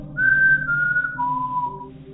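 A person whistles to imitate a three-tone whistle heard from the woods, giving three steady falling tones in a row, close and clear, with no talk over it.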